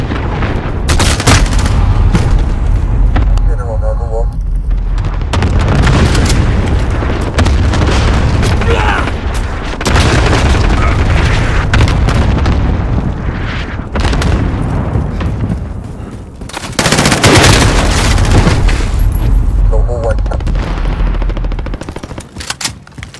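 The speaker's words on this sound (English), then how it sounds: "Enemy cluster strike incoming. Take cover." Cluster strike explosions and heavy gunfire in the Call of Duty Modern Warfare team deathmatch game, loud booming blasts and sustained automatic fire that barely let up, with voices heard beneath the chaos.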